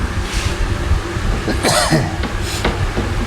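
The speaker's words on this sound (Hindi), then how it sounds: "खांसी बहुत ज़्यादा हो गया" A single harsh cough bursts out over steady rumbling background noise, with no talking around it.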